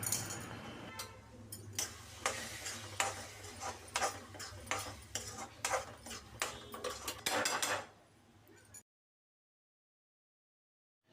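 Spoon clinking and scraping against a pan while red chilli, turmeric and coriander powders are stirred into a tomato masala, a series of sharp metallic taps over a low hum, close and quiet, ending in silence.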